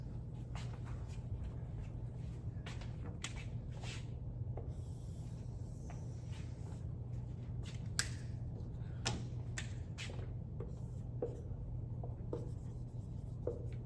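A marker squeaks and scratches across a board in quick, irregular strokes during a synthetic biology lecture on PCR, close and fairly quiet over a steady low room hum.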